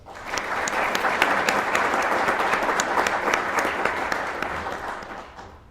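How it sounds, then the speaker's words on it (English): A large audience at a graduation ceremony applauds award recipients with dense, sustained clapping that swells quickly, holds steady for several seconds and fades at the end. "Please join me in giving the award recipients a round of applause."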